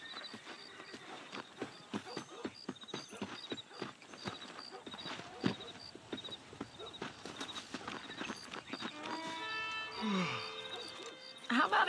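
Horse hooves clip-clop steadily in the Red Dead Redemption video game, a rhythmic run of close hoofbeats with a snort or whinny near the end.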